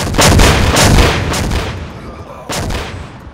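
AT4 disposable anti-tank rocket launchers firing at a live-fire range, two heavy booming blasts a couple of seconds apart, close and very loud, each trailing off in a rumbling echo.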